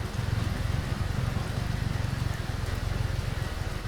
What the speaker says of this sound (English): And it's still raining is what's kind of crazy to me here.